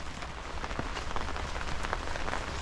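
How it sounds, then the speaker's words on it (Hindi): Heavy rain pours steadily through a deep forest at a group campsite, a dense continuous hiss of drops hitting leaves and surfaces with scattered louder splats, no voices. "लेकिन बहुत दिनों बाद गर्मी के अंदर ये बारिश जो मजा आ रहा है, ये बारिश का मौसम।"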